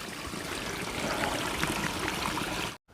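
River water on the Appalachian Trail flowing steadily in a broad, continuous rush with a trickling texture, close and fairly loud, alone, cutting off abruptly at the end.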